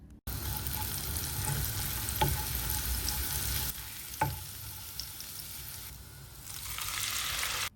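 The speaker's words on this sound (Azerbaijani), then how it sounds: "Bir dəqiqə sarımsağı qovrulandan sonra pomidorları da əlavə edirik." Steady, close oil sizzle from garlic frying in a pan, with a couple of brief clicks and a slight drop in level partway through; no voices.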